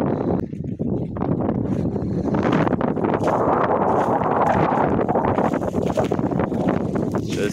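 Strong, steady wind buffeting the microphone in a stubble field beside an MTZ 892.2 tractor, a continuous roaring rush with gusty fluctuations and no voices.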